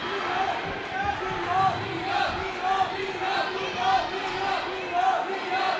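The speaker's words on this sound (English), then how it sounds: "And you can hear the Cougar crowd." Home crowd cheering and roaring at a high school boys' basketball game in a gym, swelling in waves, with a commentator talking over the noise.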